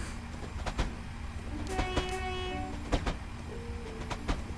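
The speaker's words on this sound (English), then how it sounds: "We've got to really start slowing this train down for the platform." A train slowing toward a station platform rolls along with a steady rumble, rhythmic clicks of wheels over rail joints and squealing brake tones rising and fading, heard continuously from on board.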